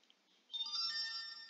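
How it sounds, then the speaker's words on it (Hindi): A mobile phone ringtone starts abruptly after a quiet moment and plays at moderate loudness as a bright electronic tune with sustained tones, heard during a Minecraft Java Edition gaming session. "अभी तक इसको याद नहीं आया मेरे फोन को बजना, अब बज रहा है"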